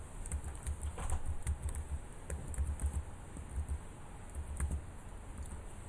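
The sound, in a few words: typing credentials on a computer keyboard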